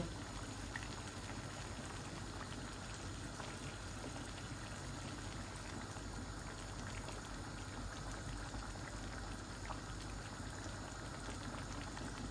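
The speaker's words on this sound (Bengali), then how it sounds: "এই আমি একটু ঝোল দিয়ে দিচ্ছি।" A pot of curry broth with chicken wings and pabda fish simmers and bubbles steadily, a dense, continuous hiss and gurgle with no voices over it.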